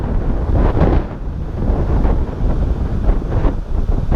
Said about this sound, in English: Very windy day today, as you can see.